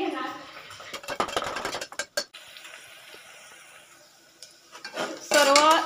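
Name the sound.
stirring onion and brinjal in a pan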